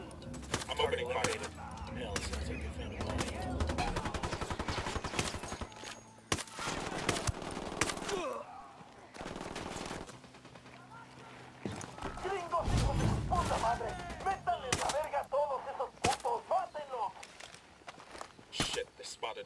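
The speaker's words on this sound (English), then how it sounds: "I'm opening fire." Bursts of automatic gunfire and scattered shots in the Tom Clancy's Ghost Recon Wildlands video game, set against busy game sounds, footsteps and clatter, with voices talking over much of it.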